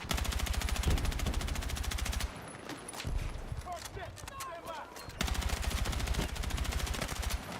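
Rapid automatic gunfire in the Battlefield 6 video game, with dense bursts of shots in two long stretches, broken by a quieter middle section of scattered shots and battlefield noise.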